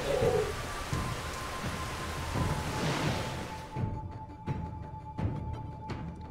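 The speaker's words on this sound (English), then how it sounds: "That place was very rainy." Rain falls steadily in a permadeath roguelike video game, a dense hiss with occasional drop sounds and faint low rumbles, until it cuts off abruptly, leaving sparse clicks and a thin tone.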